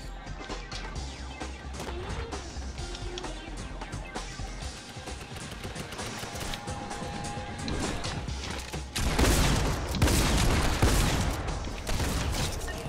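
A tactical shotgun fires in a shooter game amid dense gunfire, with rapid blasts, crashes and impacts packed close together. The shots grow louder and heavier toward the end.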